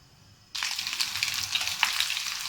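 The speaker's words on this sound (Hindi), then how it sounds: "इसको तकरीबन 10 मिनट तक हमने तेज़ फ्लेम पर फ्राई करना है" Chicken vegetable fried rice cooking on a high flame, near silence broken by a sudden loud burst of sizzling that carries on steadily with crackling pops, no speech.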